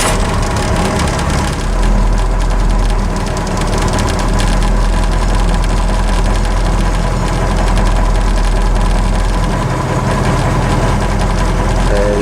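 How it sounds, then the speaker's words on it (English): A Detroit Diesel 8.2 engine runs at a steady, loud idle with a deep rumbling drone and faint knocking and vibration, continuous and close throughout. "now we're gonna turn the actual fuel solenoid on and she should start like a champ"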